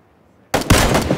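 A sudden loud burst of gunfire in PUBG after a quiet moment, continuing as rapid, dense shots.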